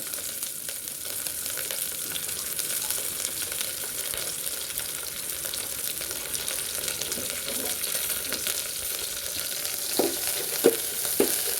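Thai curry paste stir-frying in a pan as coconut cream is added: a soft, steady sizzle with occasional louder scrapes and stirring knocks near the end, fairly quiet and with no talk.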